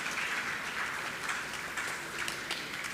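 Audience at a primary school graduation ceremony applauds students; soft, steady, hissing clapping from a distance, even and continuous throughout.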